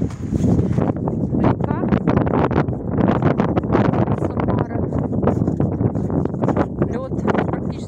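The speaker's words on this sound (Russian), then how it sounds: "Ветер такой сильный, не знаю, будет ли вам хорошо слышно" Strong wind buffets the microphone near a partly frozen river, a loud continuous rumble with gusty surges throughout, while someone speaks underneath.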